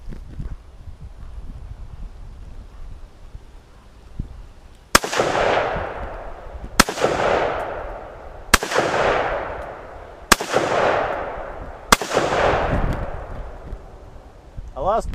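AR-pattern rifle fed from a Colt magazine, fired five times in slow, evenly spaced single shots, each a loud close crack with a ringing tail, after a few seconds of quiet low background.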